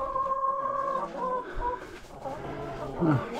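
Hens in a backyard coop in winter cluck close by, a few short, tuneful calls that repeat and overlap and then rise into a louder squawk near the end.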